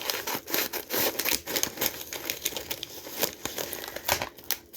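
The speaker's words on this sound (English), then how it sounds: "And I am going to need my scissors" Scissors snip open a package in a home kitchen during holiday dinner prep: close, crisp cutting and crinkling rustles in quick irregular bursts, with no talking.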